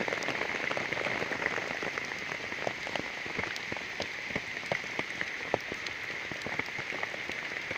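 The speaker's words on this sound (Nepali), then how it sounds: "ल हेर्नुहोस् कत्रो पानी आइरहेको छ।" Heavy rain pours down near Begnas lake, a dense, continuous hiss of drops hitting surfaces, with scattered sharper splats throughout.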